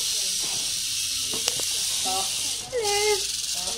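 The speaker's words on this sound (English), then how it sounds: "Give it a shake. Comes the Rattle." A rattlesnake shakes its tail in a sustained, dry, buzzing hiss that stays steady throughout, while people talk over it nearby.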